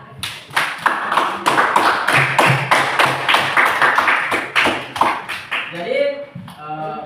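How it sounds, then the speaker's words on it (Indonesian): Students in a classroom clap together in a burst of rhythmic applause, with sharp, fairly loud claps close to the microphone. A voice speaks briefly near the end. "Oke, tepuk tangan."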